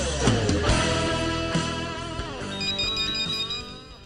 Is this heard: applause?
no